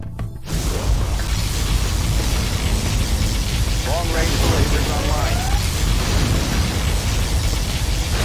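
A massive particle cannon blast from the strategy game Command & Conquer Generals: Zero Hour roars as a dense, sustained wall of rumbling explosions and crackling energy, with sweeping tonal whines cutting through the barrage.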